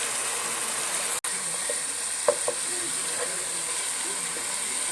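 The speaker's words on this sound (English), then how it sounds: "Fry the masala till the raw smell goes off." Masala of coriander powder and spices frying in a pan for mutton pasta, a soft steady hiss and faint sizzle with a few light clicks of a utensil, no talk.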